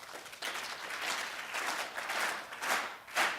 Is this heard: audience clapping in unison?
yes